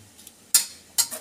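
Two short scraping swishes of a utensil mixing cake batter of yogurt, oil, baking powder and eggs in a bowl, separated by a brief pause, close up with no talking.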